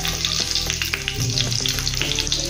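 Garlic fries in hot oil with asafoetida, a dense continuous crackling sizzle, loud and close, running unbroken with no talk.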